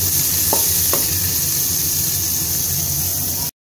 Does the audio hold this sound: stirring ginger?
yes